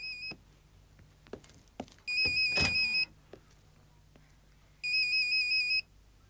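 Mobile phone ringtone chirping in repeated electronic bursts, with a short trill, a longer ring, a pause, then another ring, over faint background clatter and no talk.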